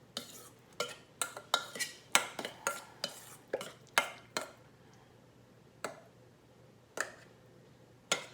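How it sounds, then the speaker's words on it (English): A spoon chopping apple slices into chunks for fried apple pie, producing a run of sharp, close taps against a bowl or board, quick and irregular at first, then sparser single knocks; no talking. "So I'm chopping them with the spoon."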